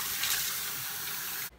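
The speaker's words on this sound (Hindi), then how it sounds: "Wash your face with cold water, बहुत जरूरी है, सिर्फ एंड सिर्फ ठंडा पानी।" Cold tap water runs steadily from a faucet into a sink for a facial wash, a continuous close splashing stream that cuts off abruptly near the end.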